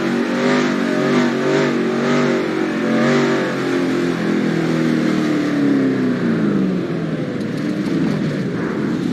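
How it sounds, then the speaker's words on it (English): A stock car engine revs hard and steadily during a burnout in NASCAR Racing 2003, a loud continuous mid-pitched roar with wavering pitch that dips slightly near the end. "trying to do the dang burnout"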